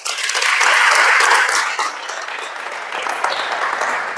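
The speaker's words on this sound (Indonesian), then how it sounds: "Oke, tepuk tangan untuk kita semua." A classroom of students claps together during a physical education teaching session, a loud burst that drops to softer, thinner clapping after a couple of seconds.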